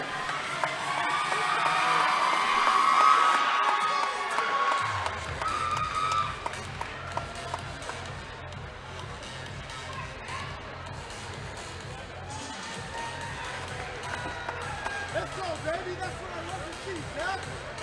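Crowd noise at a Colorado Combat Club fight night, Zach Lindsay versus Gino Pardini, awaiting the decision: a steady roar of cheering and shouting fills the hall, loudest early, then settles into a sustained hubbub under a low rhythmic hum.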